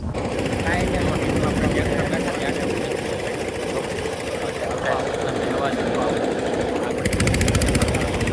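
A tractor engine runs steadily close by at a farm field, a continuous rough mechanical drone with knocking texture that holds throughout and grows slightly louder near the end.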